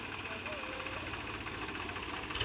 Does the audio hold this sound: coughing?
no